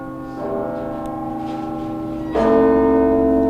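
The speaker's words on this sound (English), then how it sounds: "bells toll regularly from the tower at Riverside Church" Church bells toll from the tower of Riverside Church in Morningside Heights, New York City, two resonant strikes with long ringing decay, the second louder, heard alone.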